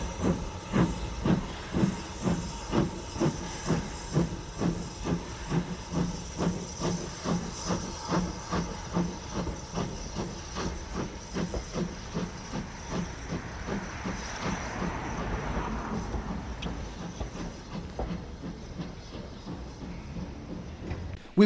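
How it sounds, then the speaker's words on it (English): BR Standard Class 2 steam locomotive 78019 departs at the Great Central Railway's winter steam gala, its chuffing exhaust beating in a steady, gradually quickening rhythm under a hiss of steam, moderately distant and fading slowly. "another standard, this time a Class 2 78019, departs for Leicester North"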